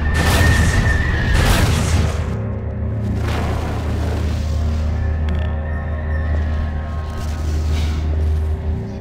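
Explosions boom in Half-Life 2 Episode 3 (The Closure mod): loud, heavy blasts at the start and around three seconds, followed by a sustained low rumbling roar with scattered debris crackle.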